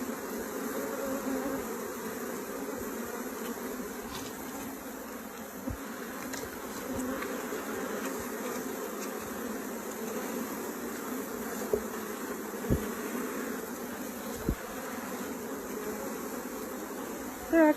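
Honeybees hum and drone around a top bar hive, a dense, steady buzz filling the air at moderate volume, with a few faint clicks and taps scattered through.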